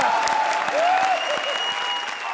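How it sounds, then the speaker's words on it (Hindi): Loud applause from the audience of a Comedy Circus television comedy show fills the room as a dense, sustained clatter of clapping. Faint whistle-like tones sit over it, and the clapping eases slightly toward the end. "सुपर हिट, जोरदार तालियां।"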